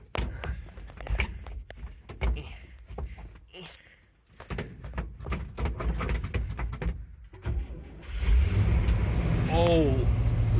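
An old boom truck's engine cranks and catches, then revs into a loud, steady roar, following a stretch of clanks and knocks around the cab while someone speaks.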